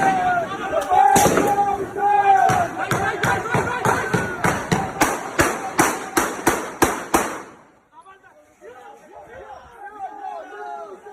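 Gunfire rings out at the US Embassy in Pakistan as Marines fire, a run of about a dozen sharp loud reports in steady rhythm over a crowd's chatter, then fading to voices.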